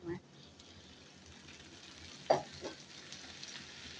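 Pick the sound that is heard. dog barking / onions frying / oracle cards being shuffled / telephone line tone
onions frying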